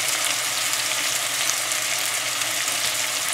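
Stuffed bitter melon fries in about two tablespoons of vegetable oil with a dense, even, hissing sizzle, close up and unbroken for the whole stretch, with nothing else heard.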